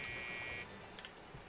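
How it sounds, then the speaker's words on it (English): A loud, steady electronic beeping tone from the SpongeBob Battle for Bikini Bottom video game holds for about half a second, then cuts off and leaves faint background noise. "It's making like really loud beeping noises in my ear"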